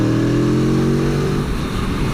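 An Aprilia Tuono V4 1100 motorcycle engine is ridden on the road, holding a loud, steady mid-pitched drone that rises slightly, then breaks into rougher, wind-buffeted rumble, continuous and close with no talk.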